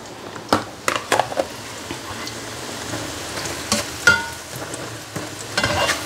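Marinated tofu frying in oil in a pan, a continuous close sizzle broken by several sharp clatters of stirring and turning, with no talking.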